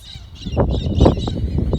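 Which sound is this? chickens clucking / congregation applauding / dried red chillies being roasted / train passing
chickens clucking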